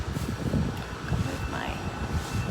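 Outdoor wind buffeting a microphone on a breezy day on a sidewalk, a steady low rumble with gusty swells throughout and no other clear sounds.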